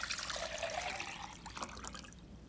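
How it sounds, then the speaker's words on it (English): About a liter of water pours into a beaker holding pellets, a close, steady trickling splash that fades slightly toward the end, with no one talking. "Let's put the pellets into this beaker, and we'll add the water, just about a liter of water."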